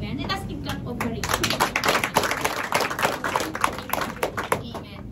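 A church congregation claps together as a clap offering, rhythmic hand claps building and continuing steadily with voices mixed in.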